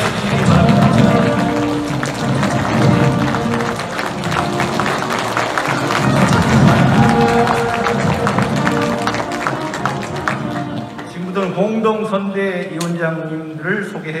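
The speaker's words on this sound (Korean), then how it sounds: "큰 박수로 환영해 주시기 바랍니다" A crowd at a Korean political party event applauds to welcome party leader Song Young-gil, a loud, sustained wash of clapping that carries on steadily before easing off near the end, with voices mixed in.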